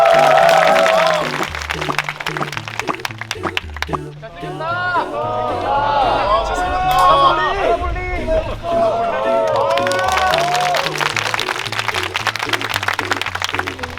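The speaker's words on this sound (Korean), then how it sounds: "다들 박수로 맞춰주세요" A studio audience claps and cheers to welcome a fitness YouTuber guest, loud dense applause with crowd noise over and around a host talking through a microphone and music.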